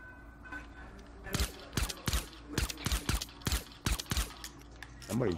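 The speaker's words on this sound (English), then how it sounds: "Somebody's shooting at my shit." Gunfire in the video game Fortnite rings out as a fast, irregular string of sharp shots, some in quick clusters, loud and fairly close over a quieter game background.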